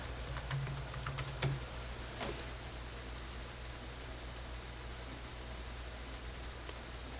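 Keys clack in a quick run of taps on a computer keyboard as a password is entered, followed by a lone tap or two against a steady background hiss, with no talking.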